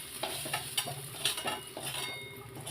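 Potatoes finish frying in oil in a pan, a low sizzle under clinks and scrapes as a utensil lifts the pieces out.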